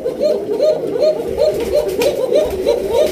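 Several pigeons cooing steadily at a pigeon farm in Bangladesh, repeated rhythmic coos overlapping close by with faint background noise and no talk.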